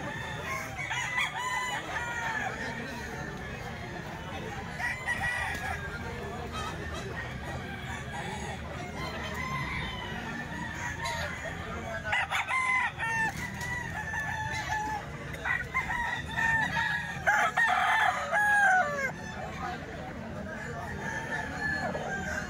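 Gamefowl roosters crowing repeatedly at a fowl farm, with several overlapping crows at mid-distance, clucking, and someone talking over them throughout.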